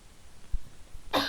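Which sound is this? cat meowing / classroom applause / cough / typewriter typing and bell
cough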